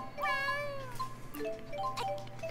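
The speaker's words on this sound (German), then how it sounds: "Katzen sind zurück." Cats meow in the video game Tales of Xillia 2, a few clear drawn-out calls, the first longer and falling in pitch, then shorter ones, fairly close over a quiet low hum.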